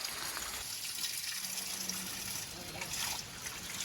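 Water from a natural spring fountain trickles and splashes steadily in a continuous gentle gush, moderately close, with faint background sounds.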